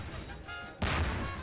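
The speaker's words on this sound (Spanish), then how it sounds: "Mira todas las explosiones nucleares que está tirando" Nuclear explosions in the video game Garry's Mod, a sudden loud blast with broad crashing noise and low rumble that bursts in midway and sustains, following a quieter stretch of game audio.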